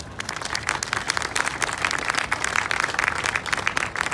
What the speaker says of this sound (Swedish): Ge henne en varm applåd